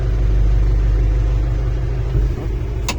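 Engine of a homemade excavator running close by, a loud steady low rumble that dips and shifts near the end.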